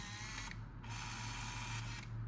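Zoom mechanism of a Kyocera Lynx 70 compact film camera, a faint steady mechanical whir of the motor running in short bursts, close and quiet.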